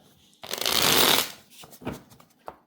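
Mahjong cards being reshuffled on a table, a dense burst of riffling and clacking followed by a few lighter shuffles, with people talking briefly.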